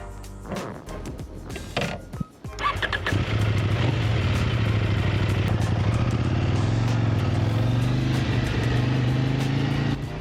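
A KOVE 800X GT adventure motorcycle pulls away on the road, a few clunks and rustles giving way to a steady, close engine drone that holds level as it rides on.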